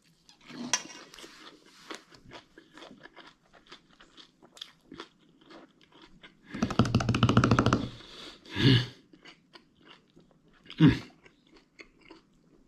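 Someone chews a crunchy salad of sprouted mung beans, grated beetroot and carrot, garlic, ginger, parsley and chili, dressed with lemon juice and olive oil. Soft mouth sounds break into several loud, close crunching bursts.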